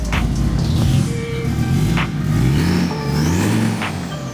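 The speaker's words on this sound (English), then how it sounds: "It's the first time we really hear the sound of the car's exhaust without that horrible squeaking belt." A Mercedes wagon with a 5-cylinder diesel engine runs loud and close, a deep steady exhaust rumble that swells with revving, with occasional short sharp hisses over it and no talking.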